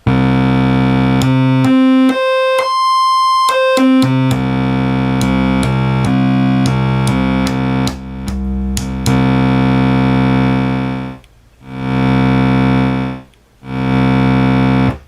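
A bright, buzzy Minimoog synthesizer oscillator sounds loud and alone, first sweeping through quick pitch changes, then holding a steady tone that briefly drops out twice.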